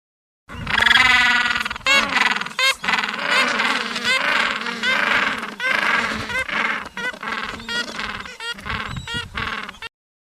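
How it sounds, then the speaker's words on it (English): Penguin calls: a run of loud, harsh, braying honks and bleats in quick irregular bursts, close and alone with no talking, stopping abruptly before the end. "penguin,"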